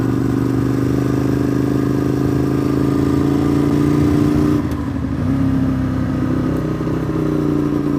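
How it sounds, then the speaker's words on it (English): A motorcycle engine drones steadily near a mountaintop as the bike rides onto gravel, with a loud sustained hum that briefly dips then resumes, plus faint rattling clatter underneath. "Oh, that's some gravel."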